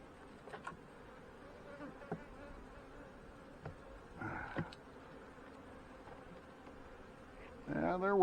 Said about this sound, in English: We have some bees working here.